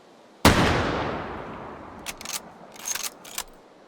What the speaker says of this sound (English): And one more shot.